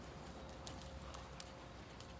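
Horse hooves clip-clopping steadily during a horse training session, a faint, distant, even walking rhythm under a constant low background hum.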